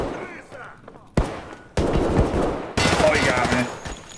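Gunfire in a video game shooter erupts in rapid bursts of automatic fire, growing louder in three distinct volleys after a quieter opening with some talk.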